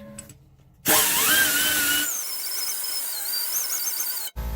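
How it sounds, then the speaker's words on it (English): An air-powered grinder abrades a spot inside a car tire for a patch, spinning up to a loud, shrill whine that settles into a steady high squeal, then cuts off abruptly. "Air powered. We're ready to grind this off,"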